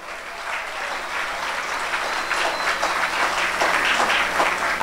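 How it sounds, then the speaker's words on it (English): An audience at a scouts youth awards ceremony in a city hall applauds for an honoree, a dense steady wash of many hands clapping that builds slightly and holds for several seconds. "Ladies and gentlemen, a round of applause for Mr."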